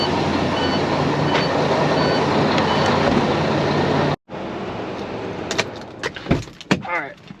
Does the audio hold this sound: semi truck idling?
yes